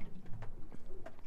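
Birds call over the sea during a foggy fishing trip, soft repeated cooing and chirping notes at moderate distance, faint against a gentle outdoor background.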